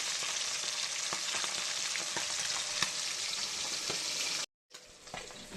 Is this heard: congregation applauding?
no